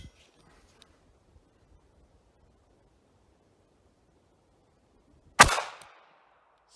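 A single sharp .380 pistol shot fired with American Gunner ammunition, loud and close, breaking a near-silent stretch and followed by a short decaying echo.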